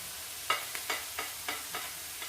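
Garlic cooking in a pan as it is stirred, a faint sizzle broken by a handful of soft, evenly spaced scraping strokes of a spoon.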